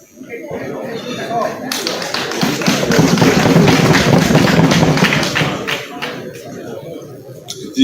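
Members of parliament applaud during the approval of presidential nominees, a swelling burst of tapping and clapping that rises after a quiet start, peaks in the middle and then fades, with voices under it.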